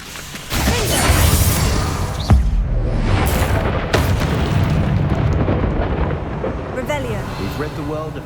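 Confringo spell explosions in the video game Hogwarts Legacy, a loud sustained rumbling blast with booming impacts and debris, a voice shouting spell names over the top.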